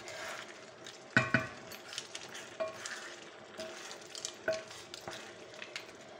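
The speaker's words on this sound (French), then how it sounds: "Voilà, je remue." Stirring a paella of peas and mussels in a pan over a low flame, with a quiet, steady sizzle and scraping, punctuated by a few sharp clinks of the utensil against the metal.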